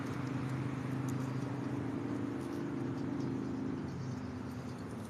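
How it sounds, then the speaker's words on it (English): Steady outdoor street traffic fills the air with a continuous low rumble of passing cars, a constant medium-loud wash of engine noise and road hum with no speech. "I know it's a little noisy out here with the traffic and stuff."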